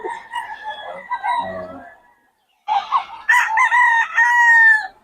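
A young rooster (a stag) crows loudly and close by, two drawn-out calls split by a short silence, with the second crow stronger and longer, and no voices over them.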